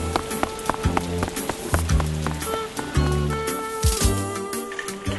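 Rain sound effect with running footsteps: a steady patter of drops on a surface, with a quick series of footfalls from someone dashing from a car to a door through the rain, close and fairly loud.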